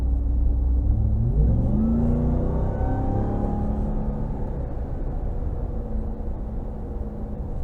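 A 2022 Dodge Ram 1500 TRX engine revs up as the truck accelerates, a loud, close rumble rising in pitch through the gears and then settling into a steady drone.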